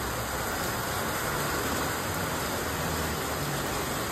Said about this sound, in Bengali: বৃষ্টি হচ্ছে কিরকম দেখো।